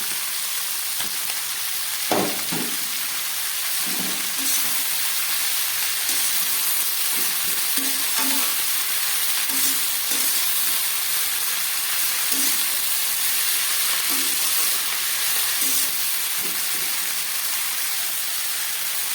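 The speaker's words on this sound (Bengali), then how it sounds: "খুব ভালো করে ভেজে নিয়েছি চিংড়ি মাছ, আলু, পেঁয়াজ, রসুন, কাঁচা লঙ্কা" Water spinach stir-fried with shrimp, potato, onion, garlic and green chilli, a steady close sizzle with occasional stirring scrapes and bubbling pops, no talking.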